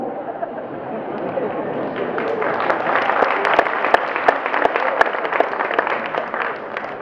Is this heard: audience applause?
yes